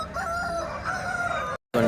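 Chickens cluck and call close by at a hen market in Piler, in a steady stream of bird sounds, cut off by a brief silence near the end.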